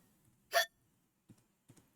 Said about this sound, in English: the cat continues to hiccup, causing little bubbles to flow out of its mouth